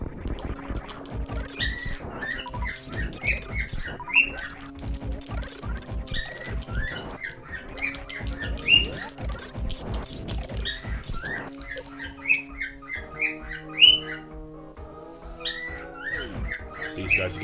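A game creature in Super Metroid chirps and squeaks in rapid repeated bursts over layered electronic game music and sound effects, steady and fairly loud throughout.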